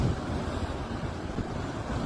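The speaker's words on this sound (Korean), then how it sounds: "마르델 플라타 해안은 큰 폭풍의 영향으로 거대한 파도를 막고 있습니다." Storm-driven giant waves pound the Mar del Plata coast in Argentina, a continuous loud roar of surf mixed with buffeting wind against the microphone, with no voices.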